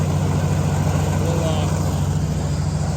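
Tractor engine idling steadily at the head of a tractor parade at a Dutch Days tractor show, a constant low throbbing drone, close and continuous.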